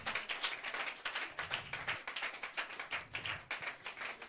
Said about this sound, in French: Donnez-lui une main d'acclamation.